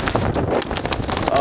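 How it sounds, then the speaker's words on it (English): Strong gusting wind during a wind storm buffets the microphone with a steady, loud roar and rustle through the whole moment, a person talking briefly over it. "Oh boy, here's the wind again."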